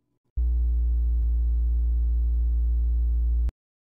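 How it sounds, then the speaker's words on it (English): A loud, deep humming low-pitched demonstration tone starts abruptly after a moment of near silence, holds steady for about three seconds, and cuts off sharply. "Finally, lower-frequency sounds maximally displace the apex."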